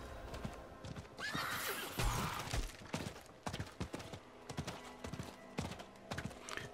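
A horse in Diablo IV whinnies loudly and its hooves clip-clop in a steady rhythm on a rainy, muddy road, with a few sharp game effects mixed in.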